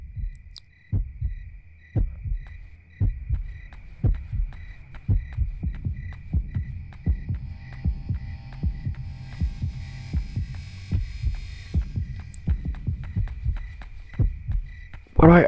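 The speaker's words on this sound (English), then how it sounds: "All I'm hearing is heartbeats." Heartbeat sounds from the horror game Yomawari: Night Alone throb in a steady double-thump rhythm over a low hum, close and continuous for about fifteen seconds.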